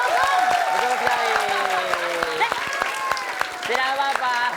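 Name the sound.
audience applause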